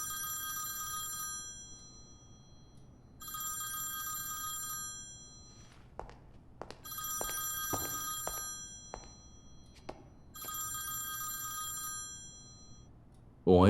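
A telephone rings in four long trilling bursts in a quiet indoor room, with a few soft knocks and thuds in the pauses between rings.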